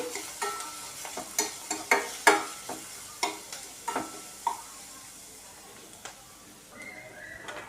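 Spoon stirring chili powder and salt into cabbage frying in a pan, with a series of sharp scraping and clacking strokes over a soft sizzle that quiets toward the end.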